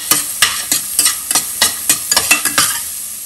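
Carrots and garlic sautéing in oil or ghee for millet fried rice: a crisp sizzle with quick, regular stirring strokes of a ladle against the pan, close and loud, no one speaking.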